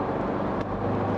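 A car cruises in third gear on an open road outside town, a brief, steady engine hum and tyre roar with no talking.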